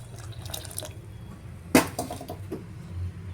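Tamarind juice poured into a cooking pot of boiled field-bean pieces on a stove at medium heat, a brief liquid splash and gurgle over a steady low kitchen hum.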